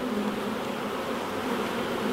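Stirred-up honey bees around a hive during nuc installation hum in a steady, dense buzz that stays even and close throughout, with no voices.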